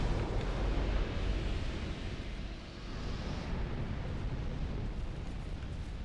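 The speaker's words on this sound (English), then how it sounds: "I'm gonna shoot these guys so they blow up" Enemies blowing up in Dark Souls 2 at Brume Tower, a loud rumbling, roaring blast that sustains as a dense, wide rumble throughout.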